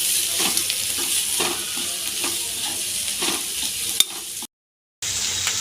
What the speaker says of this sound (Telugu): ఇందులోనే క్యాబేజీ కూడా వేసుకుని వీటిని కొంచెం ఫ్రై చేసుకుందాం.